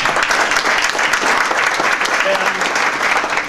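Audience applause at an alumni awards ceremony, a dense steady wash of clapping that stays loud and continuous throughout, with no pauses.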